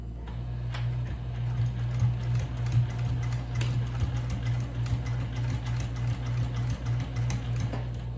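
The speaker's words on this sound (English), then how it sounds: "So let's go to the sewing machine." A sewing machine runs steadily, its needle stitching fabric for a bag in a fast, even mechanical rhythm with a low motor hum underneath, close by and continuous.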